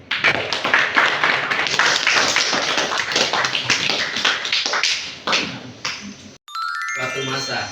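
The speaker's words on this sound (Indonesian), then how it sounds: "kepada teman-teman kita beri tepuk tangan dahulu" Classmates clapping their hands in a classroom, a burst of close, uneven claps with voices mixed in, fading out before a short chiming tone cuts in.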